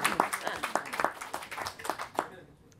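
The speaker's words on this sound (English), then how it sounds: "And I'm going to hand a warm round of applause." Applause at a Conservative fringe panel discussion, scattered, faint hand claps from a small audience for a few seconds, fading out at the end.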